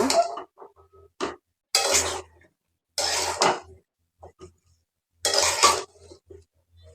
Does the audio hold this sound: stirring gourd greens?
yes